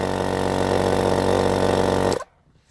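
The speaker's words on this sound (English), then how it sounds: "you can hear your little compressor going" A small EP Auto 12V DC portable air compressor runs with a steady, even motor buzz and hum at close range, then cuts off abruptly just before the end, leaving near silence.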